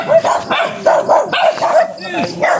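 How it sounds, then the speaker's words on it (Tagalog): Several dogs bark and yip in repeated bursts near an Indigenous community's doorway, with people talking over and between the barks throughout. "ang dami ng aso"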